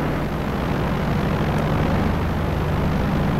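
A propeller fighter plane's engine drones steadily in the IL-2 Sturmovik flight game, a loud, constant broadband roar with no pauses or voices.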